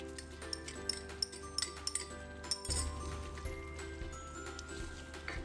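Chicken with ground chili paste is stirred in a cooking pot at home. A utensil clinks and scrapes against the metal in quick, irregular taps, faint and close, with a low background hum.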